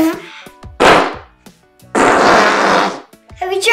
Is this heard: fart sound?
yes